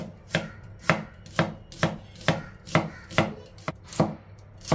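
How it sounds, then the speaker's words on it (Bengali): A knife slices an onion very thinly for beresta, making about ten crisp, evenly spaced chops against a board, close and clear with no talking. "পেঁয়াজটা কেটে নিই আমি বেরেস্তার জন্য।"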